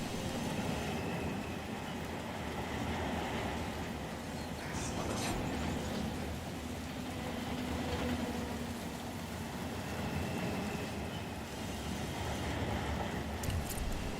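A long freight train in the Run 8 train simulator game rolls along with a steady, dense rumble, and a few sharp clanks of slack action between cars cut through near the middle and end.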